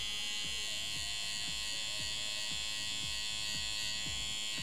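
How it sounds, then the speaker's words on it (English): Electric hair trimmer buzzing steadily up close while a barber shapes a haircut, with short repeated low clicks as the blade edge works the outline. "really use the corner of my trimmer to do so"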